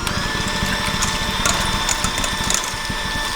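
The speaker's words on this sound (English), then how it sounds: "So we will first beating the egg whites with the electronic mixer." An electric mixer runs at medium speed, beating egg whites in a bowl. It gives a steady, loud, close whirring with a fast rattling, gear-like texture throughout, and no one speaks.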